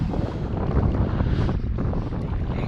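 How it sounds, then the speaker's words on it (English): Strong wind buffets a GoPro microphone beside a reservoir during a day of pike fishing, a dense continuous low roar with gusty fluctuations and no voices. "Just as predicted, the wind has picked back up just after I had my lunch."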